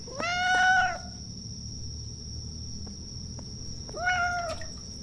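Two clear cat meows in the horror video game The Bathhouse, one near the start and a shorter one about four seconds later, heard over a constant high insect-like drone and quiet background hum.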